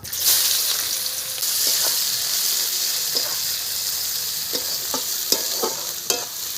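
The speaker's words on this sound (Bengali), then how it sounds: "তার জন্য কালো জিরে ফোড়ন দিলাম পেঁয়াজ দিয়ে দিলাম" Onions fry in oil with a nigella seed tempering for a small fish curry, sizzling loudly and continuously while a spatula stirs and scrapes at intervals, close up and without talk.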